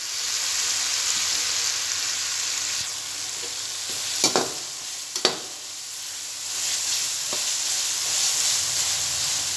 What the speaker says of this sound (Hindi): मसाले को इसी तरह भून लेंगे